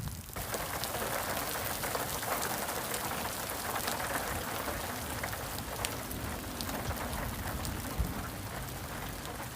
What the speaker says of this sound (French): il pleut vraiment à verse